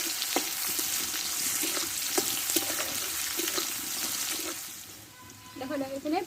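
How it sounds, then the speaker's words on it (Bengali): Onion frying in oil in a pan, a steady close sizzle with intermittent stirring scrapes, easing toward the end as a short burst of other kitchen noise comes in. "এই পেঁয়াজটা আমি একটু ভালো করে আগে ভেজে নেব"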